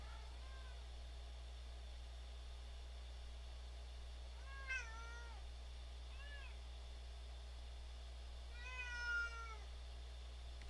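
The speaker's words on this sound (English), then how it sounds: "Yep, that's my cat again" A cat meows several times at intervals, short rising-and-falling cries of moderate loudness over a steady electrical hum, with no talking.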